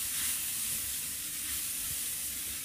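Shredded king oyster mushrooms sauté in a hot pan for a vegetarian pasta, giving a steady, close sizzle and hiss that holds evenly throughout without any talk.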